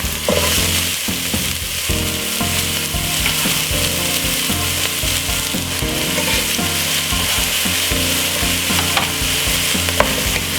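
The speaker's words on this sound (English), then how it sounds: "Stir fry up this for about 5 to 6 minutes." Pumpkin with spring onion, garlic and thyme stir-frying loudly in a pan for a soup, giving a dense, continuous sizzle close up, with utensil scrapes and clatter running through it and no talk.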